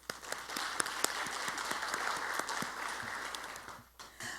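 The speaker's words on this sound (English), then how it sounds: "I want to give you a round of applause" An audience at a primary school poetry and spoken word showcase applauds, a dense stretch of clapping that holds steady and then tapers off near the end.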